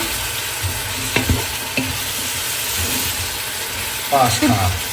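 Green, red and yellow peppers stir-fried in a pan, a steady sizzle broken by a few scraping stirs of a utensil, with a voice speaking softly now and then.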